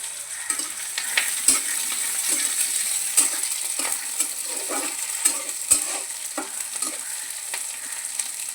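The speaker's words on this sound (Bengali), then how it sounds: "সর্ষেটা ওর সঙ্গে দিয়ে ভাজবো" About two spoonfuls of mustard seeds fry in a slightly scorched wok, crackling under a soft continuous sizzle. Irregular sharp pops and metallic stirring clinks come through close and clear, with no talking.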